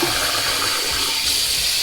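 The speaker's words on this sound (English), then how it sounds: "let me put some real hot water in here in the first bowl" Hot water runs steadily and loudly into a shaving bowl, a continuous close gushing stream with no voices over it.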